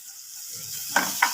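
Mixed matki sprouts fry in a pan for usal, giving a steady close sizzle with a couple of sharp scraping clicks of stirring near the end.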